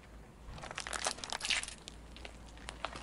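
A block of butter is crushed under a car's tire with a brief soft crunch and crinkle of its wrapper, faint and close over a low background rumble.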